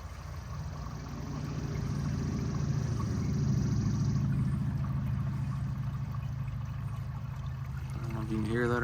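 A sand filter pump on an above-ground pool runs steadily while the pool fills, giving a continuous low hum with a soft rushing flow of water.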